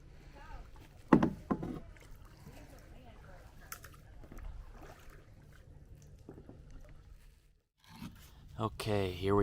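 A kayak is paddled through the mangrove trail at Caladesi Island, with quiet dips and splashes of the paddle and light water trickles close by. A louder splash or knock comes near the start, and there are faint stirrings near the end.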